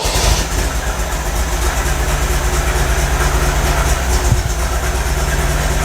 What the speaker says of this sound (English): Just let it idle.